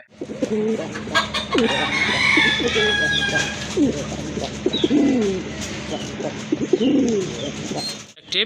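Pigeons coo repeatedly close by, soft throaty warbles rising and falling at a steady pace, while a person talks and other birds chirp faintly behind.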